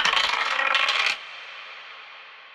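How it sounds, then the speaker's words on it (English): Dice rattle and clatter loudly for about a second, then fall silent to a faint background hiss. "I roll the dice."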